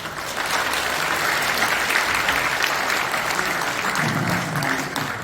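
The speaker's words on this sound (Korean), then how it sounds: "박수 한번 보내주시고" An audience at a Christian prayer breakfast in a National Assembly conference hall in Seoul bursts into sustained applause, a dense, loud roll of many hands clapping that holds steady for several seconds before tapering slightly.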